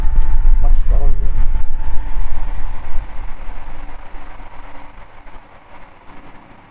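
A Kyowa KW-6900 box fan at its third, loudest speed roars with strong broadband airflow and a steady motor whine, then gradually winds down to a quieter whoosh.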